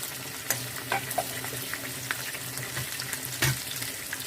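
Onion with carrot sautéing in a pan for pea soup, a quiet even sizzle with scattered clicks and scraping stirs, one heavier knock near the end, no talk.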